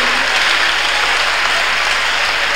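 A church congregation at a Tuesday miracle service claps hands in dense, loud, continuous applause, with no talking over it.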